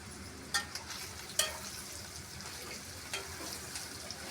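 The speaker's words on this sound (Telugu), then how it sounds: "గోల్డ్ కలర్ వచ్చే వరకు చిన్న మంట మీద వేయించుకోవాలి." Paneer and cashews fry on a low flame in a pan, giving a soft, steady sizzle broken by a few sharp stirring clinks, with no talk over it.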